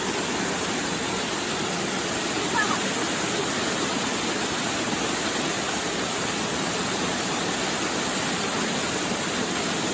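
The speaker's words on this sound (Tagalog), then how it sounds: "Parang minamasahe ka ng mga patak ng talon ng balimbing." Balimbing waterfall pours steadily in a broad, loud, unbroken roar of falling water that fills the whole span, constant and close.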